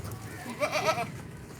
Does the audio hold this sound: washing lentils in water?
no